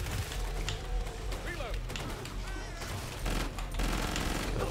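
Gunfire from a fire-based Mac-10 weapon in the video game Killing Floor 2, a steady stream of rapid shots layered with game effects and some voices, continuous and fairly loud throughout.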